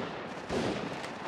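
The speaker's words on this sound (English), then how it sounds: "Shots fired at me." A short burst of gunfire in the battle royale shooter Apex Legends, a couple of dull muffled shots within about a second over steady game background noise.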